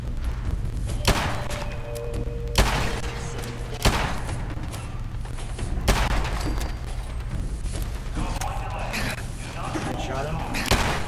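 Modded guns fire in Fallout: New Vegas, with several sharp, heavy shots spaced a second or two apart over a steady game soundscape, under a player's voice.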